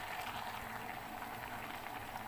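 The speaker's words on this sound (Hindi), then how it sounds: "यहाँ पर मैं इसके अंदर ऐड करूँगी 1 गिलास पानी का, और ये उबला हुआ पानी है।" Boiled water pours steadily from a glass into a pot of cooking saag, a continuous bubbling, gushing wash heard close and alone.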